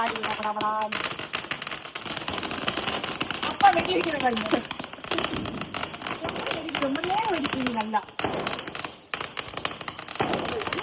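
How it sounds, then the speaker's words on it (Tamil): Popcorn pops in dense rapid crackles under continuous talk and laughter from a family, and some of the popping may be firecracker-like bursts. "பாப்கார்ன் ரொம்ப நல்லா பாப்கார்ன் சவுண்ட் வருதா"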